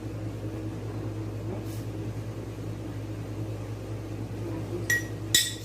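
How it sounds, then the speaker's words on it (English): Cucumbers go into a hot glass jar to the sound of two sharp clinks of glass near the end, close and clear over a steady low kitchen hum, with no talking. "we just start filling the jar with cucumbers"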